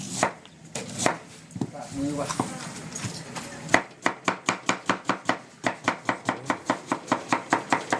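A chef's assistant chops ingredients with a knife on a board beside a pan while cooking stir-fry with hoary basil and coconut shoots, giving fast, steady, close knife strikes in a rhythmic run, with someone talking over the start.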